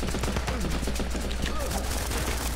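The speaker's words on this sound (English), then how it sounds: "Fuck you and your machine gun." Dense, continuous gunfire from the Running With Rifles video game, bursts overlapping into a steady fusillade with speech-like game sounds mixed in, loud and unbroken throughout.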